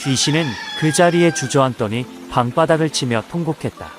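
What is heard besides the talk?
rooster crowing at dawn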